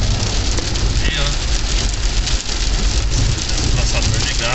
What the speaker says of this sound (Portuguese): chuva aqui forte